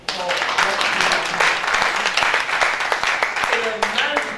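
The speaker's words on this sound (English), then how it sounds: "I think we should give ourselves women a resounding clap for what we have" An audience at a women directors' luncheon bursts into applause, a dense, loud wash of many hands clapping that holds steady for several seconds, with voices mixed in underneath.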